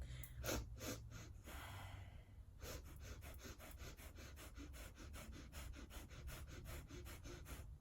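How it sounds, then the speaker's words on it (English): Rapid breath of fire breathing, a steady train of quick, forceful nasal exhales and inhales pumping in even rhythm, close and clear over a low background hum. "you're going to quickly inhale and exhale out through your nose"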